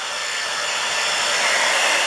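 A hair dryer on its cool setting blows steadily and loud, close by, aimed at faux fur, a continuous airy whoosh with no voices over it.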